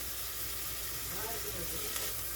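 Chopped onion and vegetables sautéing in a pan for homemade tomato bisque, a steady close hiss and sizzle filling the whole moment.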